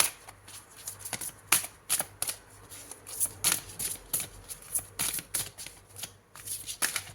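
Tarot cards shuffled by hand, a rapid series of riffling flutters and soft slaps repeating in short bursts, close and clear.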